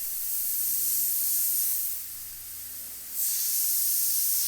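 Airbrush spraying highlights onto a skull through a template, an airy hiss that holds steady, dips quieter for about a second, then returns at full strength, faint and close with no voices.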